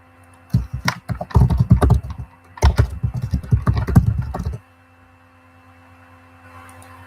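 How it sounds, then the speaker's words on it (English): Rapid clattering keystrokes on a computer keyboard in two dense bursts, close and fairly loud, followed by quiet room tone. "if you type Google Big Vision"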